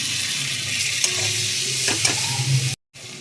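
Lightly fried onions with salt and turmeric cooking in melting fish fat, a steady close sizzle with a few spoon clinks, briefly cut off near the end before resuming.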